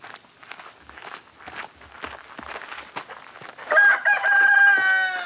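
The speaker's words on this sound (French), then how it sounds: "Aujourd'hui, nous allons voir un poulailler." Chickens at a village coop: footsteps and scattered clucks, then a rooster crows loudly and close with a long drawn-out call near the end.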